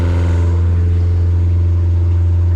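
A 2004 Jetcraft boat's Yamaha F50 outboard motor runs in gear at a fixed throttle with its top cover off, a loud, steady droning hum with no change in pitch, close up and without talk.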